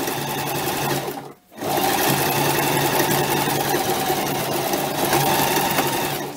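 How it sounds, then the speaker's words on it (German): A sewing machine stitches a zigzag seam on fabric for a stuffed chicken, running in a loud, fast, steady mechanical whir close by, stopping briefly once before sewing on continuously, no talking. "Rumdrehen, Zickzack einmal die Naht."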